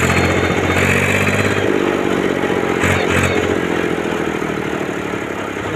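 An Ursus 3512 MF tractor drives along an asphalt road, its diesel engine a loud, steady, close rumble that holds throughout with slight variation in pitch.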